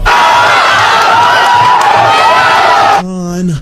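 A crowd cheers and shouts loudly and steadily for about three seconds, then cuts off abruptly and a voice starts speaking.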